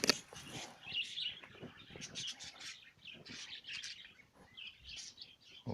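Small birds chirping and tweeting in an outdoor aviary among fruit trees, with many quick overlapping calls at moderate distance and no talking.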